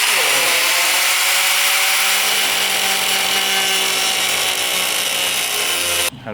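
A power tool cuts into the hood of a Mazdaspeed 6 while hood pins are being installed. The cut is a loud, sustained, high-pitched grinding whine up close that stops abruptly near the end.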